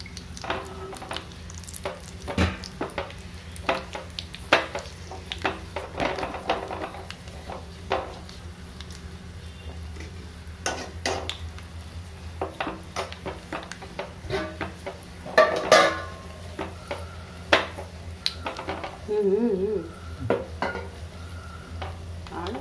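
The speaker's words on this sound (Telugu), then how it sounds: "ఇప్పుడు పోపు వేసుకుంటున్నాము." Spices tempering in hot oil for spinach dal (palakura pappu), a steady close sizzle running throughout with scattered clinks and stirring scrapes of a utensil in the pan, louder bursts near the end.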